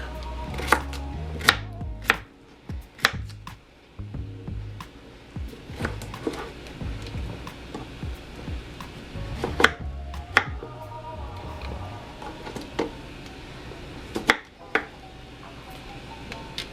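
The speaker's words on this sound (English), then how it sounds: "I'm going to take my cucumber and I'm going to do the same. Just chop it into pieces." A knife chops through cucumber on a board in irregular sharp knocks, some quick runs of cuts and some single strikes, close by.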